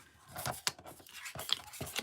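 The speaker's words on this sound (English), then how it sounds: "As I'm about to shuffle," Rapid papery riffling and crisp flicks of playing cards being shuffled, close by, in a few quick bursts with brief pauses between.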